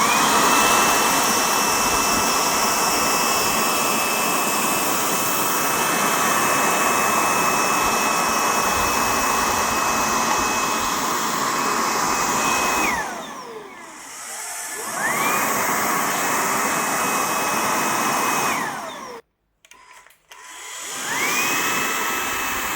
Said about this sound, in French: on va tester ensemble l'efficacité de cet aspirateur